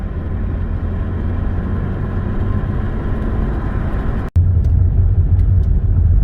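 Steady close road and engine rumble from inside a 2009 Chevrolet Malibu Hybrid as it slows after leaving a highway, continuous with one brief dropout, no talking.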